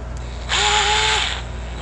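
A DeWalt 8V Max cordless screwdriver runs in one short burst of about three-quarters of a second, a steady whirring motor whine that rises then drops, close and fairly loud against a quiet background.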